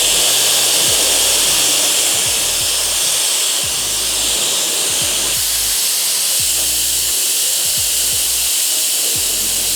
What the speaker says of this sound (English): I'm gonna blow dry real quick.